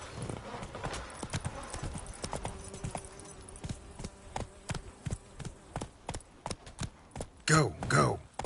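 The horse Roach from The Witcher 3 clip-clops along with evenly spaced, crisp hoofbeats, close and distinct, before a loud horse snort or whinny near the end.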